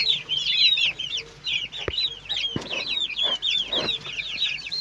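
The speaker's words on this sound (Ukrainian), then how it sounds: "Курчатка ось уже які підростають" Many small newly hatched chickens cheep constantly in high, rapid chirps, close by, with occasional thumps and rustling underneath.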